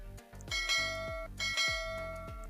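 A bell sound effect for a subscribe bell icon rings twice, each clear metallic strike leaving a sustained, gently decaying tone, with no talking.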